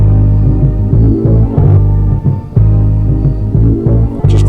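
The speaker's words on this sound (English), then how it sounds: "it's just two bass lines meeting, so there's a little bit of clutter" Two bass lines played back from an ENSONIQ EPS sampler, heavy and loud, with steady low throbbing notes that overlap and stop briefly near the middle before carrying on.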